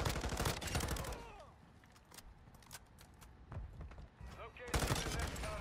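Rapid automatic fire from an M13C rifle in Call of Duty MW2, bursts of sharp shots at the start and end with scattered single cracks and footsteps between, close and loud, with faint talking.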